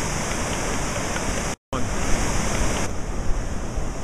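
Floodwater rushing down a swollen creek at an RV park, a dense steady roar of flowing water with a brief dropout partway through.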